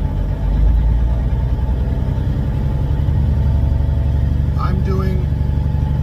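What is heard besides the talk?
semi truck engine pulling away in low gear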